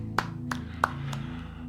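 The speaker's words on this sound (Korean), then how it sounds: "우리 찬양을 받으신 하나님께 감사의 박수를 드리겠습니다." At an online Sunday church service, a few sharp, distinct claps ring out about a third of a second apart over sustained musical tones, not a full round of applause.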